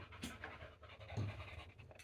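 Dogs panting softly and rapidly nearby, a steady breathy rhythm with a couple of small snuffles, fairly quiet throughout.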